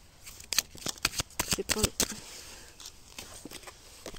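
Tarot cards are shuffled by hand in a rapid flurry of crisp riffling snaps over about two seconds, then fade into a few softer, scattered taps at close range.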